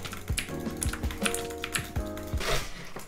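Loud, rapid clicking from an RGB gaming keyboard with blue switches, keys struck in quick bursts and combos, close up with no voices.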